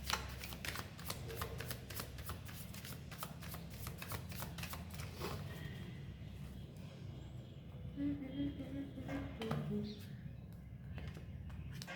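A deck of tarot cards being shuffled by hand, with quiet, rapid riffling and soft flicking of cards going on for several seconds at close range.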